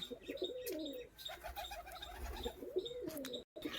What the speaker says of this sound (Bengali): এই যে পায়রা দুটো কোয়ালিটিওয়ালা পায়রা।